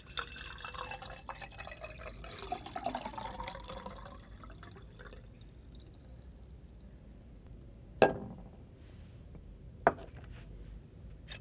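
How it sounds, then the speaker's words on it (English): Water pours into a glass jar for a simple atmospheric-pressure straw demonstration, a soft splashing trickle over the first few seconds, then quiet with two sharp clinks or knocks near the end. "Now fill the jar with water"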